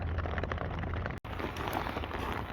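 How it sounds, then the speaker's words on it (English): Steady rain falls in cold, wet Pacific Northwest weather, a dense continuous hiss of drops on surfaces with a low rumble underneath, briefly cut off by a sharp gap midway before resuming at the same level. "The rain is lasting for quite a while."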